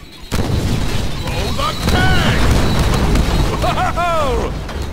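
Grenade explosions in a Deadpool video game, a burst of loud booms and rumbling blasts piling over one another, with shouting voices over the chaos.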